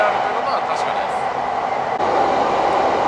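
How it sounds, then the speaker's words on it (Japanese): A steady, loud rumble of a train running on a mountain line through snowy country, approaching Tsuchitaru station in Niigata, heard from inside as an even roar with faint high squeals and no talking. "もうそろそろ列車は土樽に到着です。"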